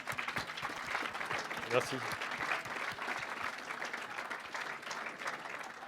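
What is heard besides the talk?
audience applause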